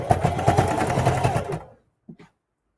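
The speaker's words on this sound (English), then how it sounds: "I'm just going to sew it down." A sewing machine runs a fast, even stitching rhythm for about a second and a half while sewing a lunch tote bag seam, then stops, leaving a couple of faint clicks.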